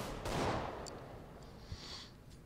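A single Nova shotgun blast goes off in a competitive Counter-Strike: Global Offensive match, a short, fairly faint boom followed by a fading tail and light game noise.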